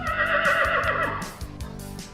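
A horse neighs loudly and close by, a long whinny that shakes and trails off, with rhythmic hoof clip-clop beneath it.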